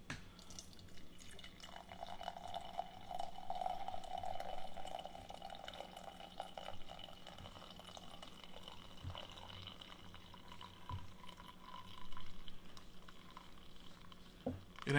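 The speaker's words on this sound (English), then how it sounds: "But I can at least pour it in this cup from this." Liquid poured from a pot into a cup during a BBQ chicken pasta bake, a steady trickling fill lasting several seconds at moderate level, close by, with no talking over it.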